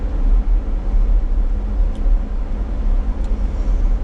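Steady low road rumble from inside a car cruising through town, a constant close drone of engine and tyres with no talking.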